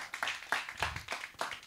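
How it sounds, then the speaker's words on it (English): A church congregation claps hands in praise, a quick uneven series of sharp claps at a lively rhythm, fairly close and moderately loud. "give the Lord a hand clap of praise"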